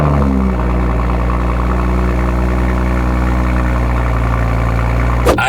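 A car engine runs steadily at idle before a test drive, a loud, constant low hum with harmonic drone, ending in a short clunk near the end.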